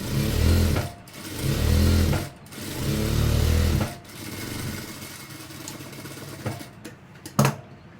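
A sewing machine stitches elastic uniform pants in three loud, steady whirring runs with short pauses between them, followed by quieter clicks and handling noises toward the end.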